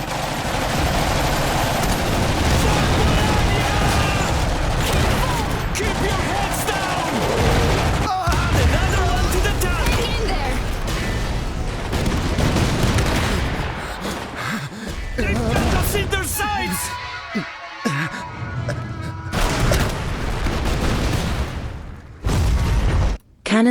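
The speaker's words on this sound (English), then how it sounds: "cannons are a weapon system that can devastate mechs from long range when positioned effectively" Artillery cannons in the real-time strategy game Iron Harvest fire amid a dense battle, with booming blasts, machine-gun bursts and explosions filling the scene almost continuously before thinning out near the end.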